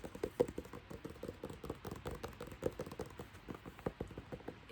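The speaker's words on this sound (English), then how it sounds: "I'm just going to tap some more books since I love the sound of the tapping books" Quick, irregular tapping on hardcover books, dry and close, with soft rapid knocks in uneven bursts and no talking.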